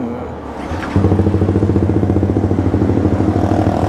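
A Suzuki GSX-R150 motorcycle engine, a bike said to suffer from stalling faults, idles roughly and then steps up to a loud, throbbing pulse as it pulls away close by.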